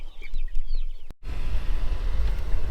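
Chickens in a mobile chicken tractor cluck softly in short bursts, followed by a louder rustle and scuffle of movement close by.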